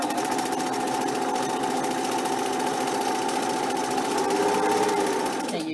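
A Singer Merritt 2404 sewing machine runs steadily under foot-pedal control, a continuous close mechanical whir with a constant hum that shifts slightly in pitch near the end, with no talking.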